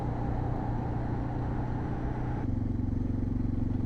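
A motorcycle rides along a road at night in Sonora, Mexico, its engine drone and road rumble steady and close for the whole stretch, with a slight shift in tone partway through.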